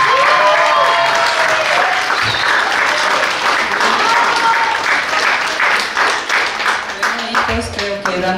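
Applause from a seated audience at an academic humanities colloquium, a dense sustained wash of clapping that carries on steadily throughout, with some voices mixed in near the end.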